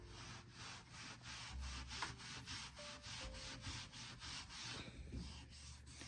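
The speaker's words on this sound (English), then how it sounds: "So now I have to go in and resand it again." Hand sanding of wood veneer on a bedroom furniture piece, steady back-and-forth rubbing strokes in a regular rhythm, close and fairly quiet, with no voices.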